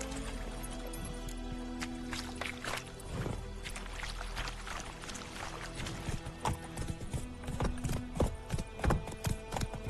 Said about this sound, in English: конячка.